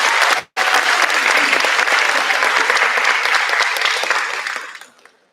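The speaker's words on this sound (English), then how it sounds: "Let's give a round of applause to Kennedy." Loud, dense applause from a large theater audience at a school awards ceremony, close and sustained, with a brief drop near the start before it fades out at the end.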